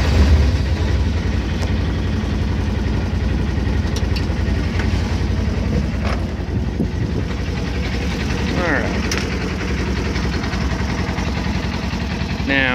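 A Polaris General UTV fitted with a full-length speaker bar sits running at a steady idle, a constant low engine drone with occasional clicks and faint voices in the background.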